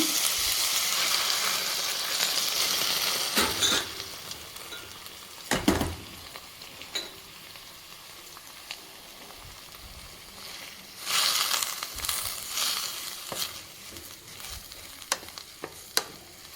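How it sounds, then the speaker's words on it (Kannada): Mint leaves fry in a pan for a country chicken curry, giving an uneven sizzle broken by stirring scrapes and clatters of a utensil against the pan, with no voices. "ಇದಕ್ಕೆ ಇವಾಗ ನಾವು ಪುದೀನ ಹಾಕ್ಕೊಂಡು ಫ್ರೈ ಮಾಡ್ಕೊಳ್ಳೋಣ"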